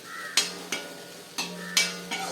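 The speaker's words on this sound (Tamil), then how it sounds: "தீயை விடாமல் நல்லா ட்ரை ரோஸ்ட் வர அளவுக்கு வறுத்து வச்சுக்கணும்" Ingredients being dry roasted in a pan over steady heat, stirred with a utensil that scrapes and knocks against the metal in five distinct strokes at an uneven pace over a faint sizzle.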